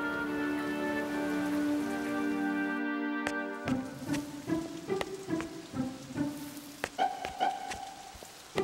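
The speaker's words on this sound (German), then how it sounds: "Es regnete und regnete, als wollte es niemals wieder aufhören." Rain falls in a children's Noah's Ark Bible story, heard as a light patter of drops under a sustained musical tone that gives way to scattered plinking drops.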